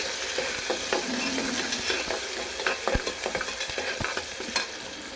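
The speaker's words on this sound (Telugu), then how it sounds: "ఈ ఉల్లిపాయ ముక్కలు దూరంగా వేయించాలి" Onion pieces fry in a pan for a chow chow curry, a steady close sizzle running throughout with repeated scraping stirs and clinks of a spoon against the pan, no voices.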